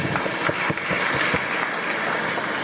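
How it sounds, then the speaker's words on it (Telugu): Audience applause at a Sree Fiber News event in Vijayawada, a steady broadband patter of many hands clapping at a consistent level for a few seconds, with a faint voice briefly underneath. "మీ అందరికీ చప్పట్లు మళ్ళీ"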